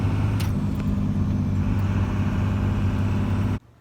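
A truck with a Cummins diesel engine driving on very little boost, a steady loud low engine drone and road rumble close by that cuts off abruptly near the end.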